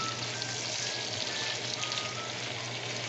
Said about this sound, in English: We're gonna saute this down now.